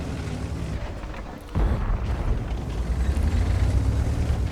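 Tank gun shell striking a Grille tank destroyer in World of Tanks, a single heavy booming impact that bursts in abruptly and leaves a rumbling, lingering roar.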